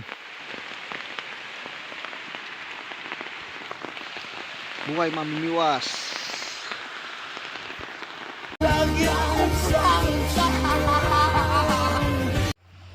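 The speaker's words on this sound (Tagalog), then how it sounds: "Ay, naabutan ng ulan." Rain patters steadily outdoors near Botocan Dam, mixed with a person speaking; near the end a loud burst of music cuts in over the rainfall.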